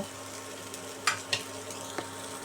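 Chopped carrots sizzle quietly in a frying pan as they are stirred, a low steady hiss with a few brief scraping accents from the spoon; no one speaks.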